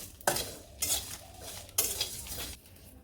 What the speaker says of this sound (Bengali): পাঁচ ফোড়ন আর শুকনো মরিচ ভেজে নামিয়ে নিছি